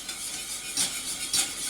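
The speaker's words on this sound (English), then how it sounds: "I'm just going to give this a little whisk" Hot milk spiced with garam masala being whisked in a pot, with a steady scraping stir and two brighter whisk strokes against the pan, close and moderately loud, no voices.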